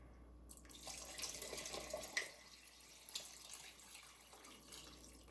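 Water runs and splashes steadily into a cooking pot for a few seconds, fairly quiet and close, with a few faint clinks.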